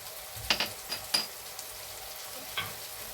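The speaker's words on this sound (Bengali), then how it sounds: "এবার এর মধ্যে আমি আদা বাটাটা দিয়ে দিলাম, তার সঙ্গে রসুন বাটাও দিয়ে দিচ্ছি।" Ginger and garlic paste fry in a pan with onions for soya chunk keema curry. A soft, quiet sizzle is broken by a few scraping, clinking stirs of a spoon against the pan.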